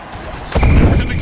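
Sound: explosion in an MFL football video game

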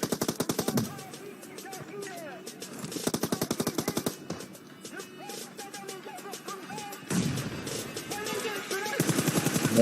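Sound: bombs falling and exploding in a video game

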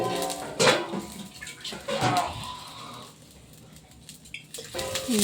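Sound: water poured into a pan of tempered spices

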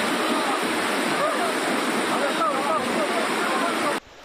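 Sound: rushing swollen mountain stream water

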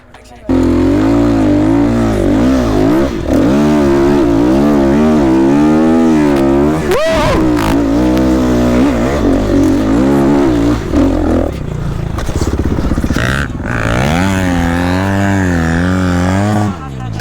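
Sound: enduro motorcycle revving in second gear up a slope

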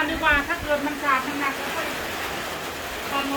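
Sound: rain falling

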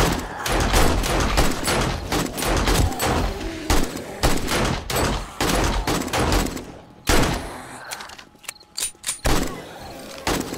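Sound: gunfire in video game 7 Days to Die

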